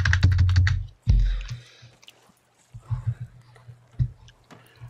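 Computer keyboard keys hammered rapidly in a quick clattering burst, then a pause and scattered lighter taps and clicks, fairly close.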